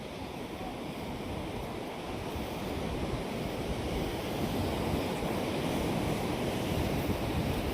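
Sea waves wash steadily onto the shore at a beach with a boat nearby, a continuous loud surf roar with some wind rumble and no voices.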